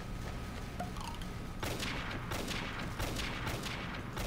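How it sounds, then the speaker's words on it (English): Rapid SMG gunfire in a video game, loud close bursts in a quick run after a quieter opening, with no voice over it. "See, that SMG though, that thing just, it rips."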